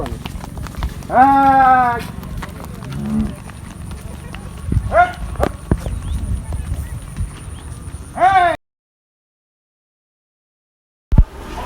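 Village livestock, goats among them, are herded home on a cloudy evening: shuffling hooves and scattered low knocks run beneath several drawn-out animal calls, then the sound cuts to silence before a brief return.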